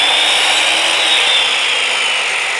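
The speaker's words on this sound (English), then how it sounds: "So you want to go ahead and cut the dowel accordingly." A wooden dowel is cut with a power tool, giving a steady, loud, continuous whine and rasp close by with no pauses, in a home decor tray build.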